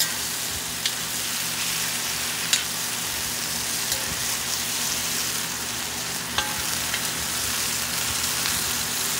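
Chicken and broccoli stir-fried in a pan for a tangy-sauce dish give a steady, loud sizzle and crackle throughout, with a few sharper pops and no stirring or talking.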